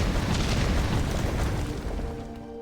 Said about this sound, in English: And another bomb in the wall.